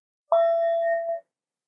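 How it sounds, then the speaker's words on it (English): Meditation teacher's bell struck once, a clear close ding that rings out with a steady tone for about a second before being cut off, heard alone. "Instead of a whistle, I have my bell."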